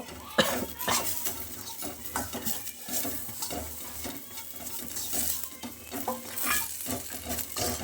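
Grated coconut and coriander leaves fry in a pan for a Sunday mutton gravy, with a steady sizzle under repeated scraping and clinking stirring strokes throughout; no one speaks.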